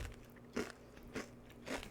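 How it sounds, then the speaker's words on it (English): Three loud crunches from biting thick, large-slice chips made from real potatoes, evenly spaced with brief pauses between bites, close up and with no talking. "Hear that crunch."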